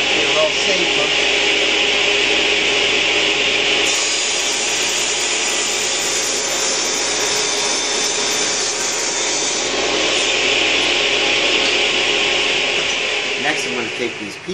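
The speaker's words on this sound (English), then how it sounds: "I'm going to take some bloodwood and I'm going to rip it into strips of equal width." Table saw ripping a bloodwood board into thin strips of equal width with push sticks, a loud steady whining roar that holds nearly unbroken for about fourteen seconds before easing off at the end.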